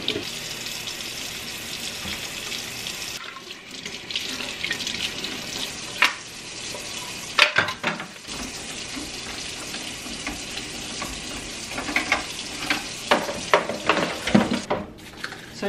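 Parts of a Keurig coffee maker are washed under running tap water with sponge and soap, a steady splashing stream broken by clattering and scrubbing noises, with no talking.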